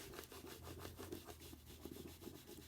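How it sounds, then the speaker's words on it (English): An applicator stick rubs adhesive film onto a glass mirror in quick back-and-forth strokes, producing a soft, close, rhythmic scuffing and squeaking with no talking. "I'm just going to take that and I'm just going to start rubbing."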